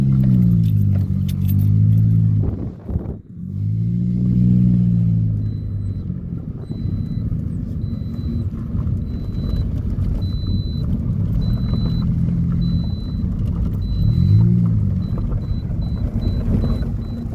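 Inside a moving car, the engine gives a steady low rumble with rising and falling revving swells, loud and continuous, with faint jangling rattles and no talking.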